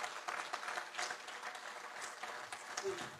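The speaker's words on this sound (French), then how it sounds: "applaudissez pour ce grand monsieur" Faint, distant audience applause during a speech event in Montreuil, a steady wash of clapping from a crowd lasting a few seconds.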